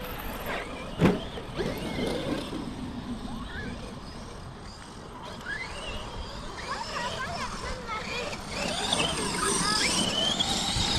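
An HPI Baja 5B electric RC car, its wheels spinning and slipping on a straight, whines and whirs in changing pitch, with a sharp knock near the start and voices talking nearby throughout.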